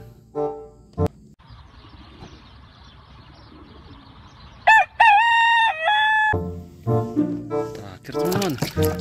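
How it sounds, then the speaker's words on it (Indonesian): A rooster crows loudly in a long, wavering call, surrounded by speech before and after it. "Ayam jantan."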